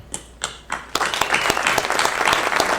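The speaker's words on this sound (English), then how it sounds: "I'll clap" Audience in the Brauntex Theater, New Braunfels, starts with a few scattered claps that swell after a second into fuller, steady applause.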